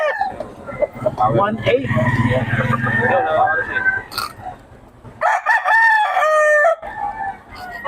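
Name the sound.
young rooster (stag) crowing and clucking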